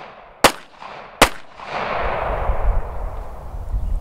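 Two sharp handgun shots at a shooting drill on a coach's command, about 0.8 seconds apart, loud and close, each followed by a brief echo, then a low rumbling background.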